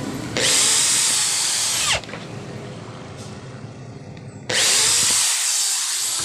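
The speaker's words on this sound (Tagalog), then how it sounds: "Butasan natin ito ng 1/8 drill bit." A power drill with a 1/8 inch bit boring through aluminum rectangular tube, two loud high-pitched whining bursts split by a quieter stretch of motor rumble, close to the microphone.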